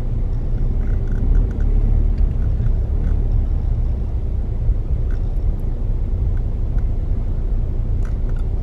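A car creeps slowly toward a parking exit during a holiday in Corsica, giving off a steady low engine rumble close by with faint scattered clicks and no speech.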